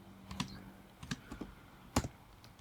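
Sparse clicks of keys on a computer keyboard, a few separate taps and one louder strike, close and quiet.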